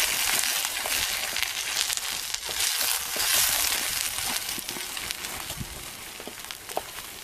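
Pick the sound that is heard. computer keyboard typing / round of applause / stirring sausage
stirring sausage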